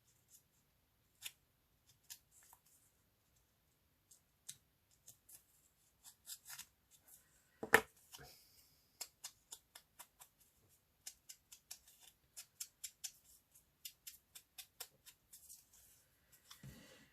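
Scissors snip the corners off paper for a collage, giving a string of crisp, close cuts. They start sparse and irregular, then come in quicker runs with quiet gaps between.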